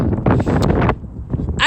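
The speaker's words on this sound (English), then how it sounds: "It's really windy" Strong outdoor wind buffets the microphone in loud, continuous gusts while walking outside, with a brief lull midway before the roaring rush picks up again.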